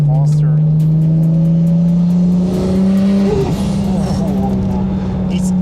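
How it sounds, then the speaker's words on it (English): A tuned 650+ hp turbocharged Toyota Supra Mk4 accelerates hard, its engine drone rising steadily in pitch and then breaking into a brief whooshing turbo blow-off burst before pulling on, loud and close from inside the car. "You can hear the blow off"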